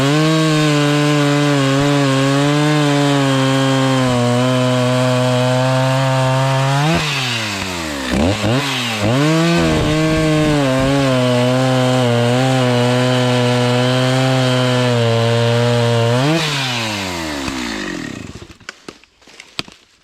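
A 56 cc 029 chainsaw cuts firewood with a loud, steady buzzing drone, bogging and revving as the chain bites and clears the wood, then easing off at the end.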